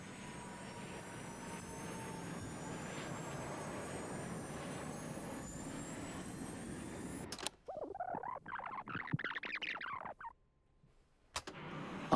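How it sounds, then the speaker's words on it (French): Airbus A320 jet engines accelerating roar steadily at a distance, the rising whine building for several seconds before the sound cuts out into a harsher, crackling burst. "on entend distinctement le bruit de l'accélération des moteurs de l'A320"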